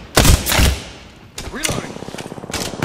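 Gunfire from the video game Apex Legends comes in two loud, heavy bursts, then a rapid stream of fainter, regular shots, with a voice calling out over the shooting.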